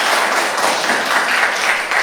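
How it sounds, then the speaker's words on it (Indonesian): A classroom group breaks into steady, dense applause for a presenting group, close and moderately loud, sustained evenly without a pause across the short stretch. "aplaus untuk kelompok 3"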